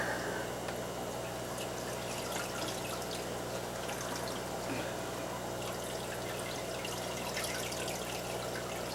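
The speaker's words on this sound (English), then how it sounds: "I'm going to give it some water." Water poured into a Marineland Power Filter 200 aquarium filter trickles and splashes steadily over a low mechanical hum, continuous and fairly faint throughout.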